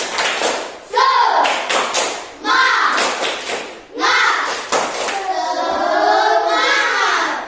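A class of primary school children claps in a rhythmic chanted spirit clap, bursts of hand claps alternating with shouted unison chanting in Indonesian.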